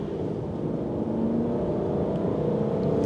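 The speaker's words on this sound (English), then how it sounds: "But listen to these gear changes." Aston Martin DBS V12 engine droning from the cabin as it pulls through gear changes, a steady close hum with a slight shift in pitch and rising load, no speech.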